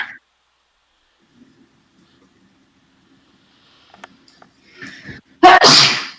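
Near silence with faint rustles, then a soft breathy intake and one loud, sharp sneeze close to the microphone.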